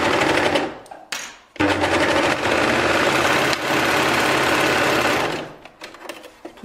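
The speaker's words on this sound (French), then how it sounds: "je vais faire la moitié à la surjeteuse, la moitié à la machine à coudre" Overlocker (serger) sewing a knit wrist band for a t-shirt, a loud, close, fast mechanical whir that starts after a brief false start and runs steadily for several seconds before slowing to stop.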